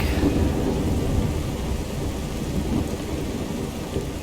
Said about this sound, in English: it was a beautiful day, and now it's a thunderstorm